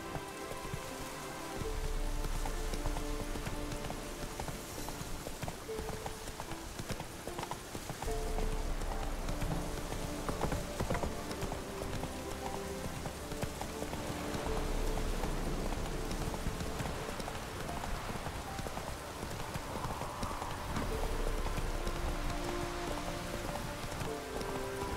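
The horse Roach trots through rain in The Witcher 3, with steady, rhythmic clip-clop hoofbeats over a constant patter of falling rain and a quiet game music bed, continuous throughout and with no talking.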